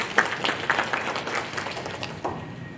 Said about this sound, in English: I still think that deserves a little bit of applause for Kenya.